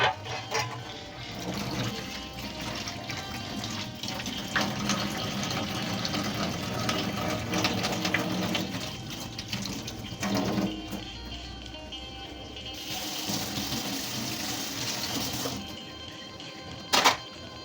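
Shrimp are rinsed under running water for a final wash, giving a steady broadband splashing and gushing that shifts in intensity throughout, with a brief clatter near the end and no speech.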